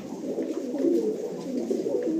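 A pigeon, roughly seven and a half to eight years old, coos close by in a low, throaty, continuous run of soft rolling notes.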